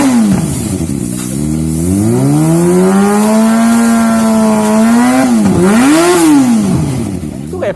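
A Kawasaki Ninja ZX25R fitted with a long GP1 Carbon exhaust revs hard nearby, its deep, raspy note swelling into a long climb, then dropping and blipping again.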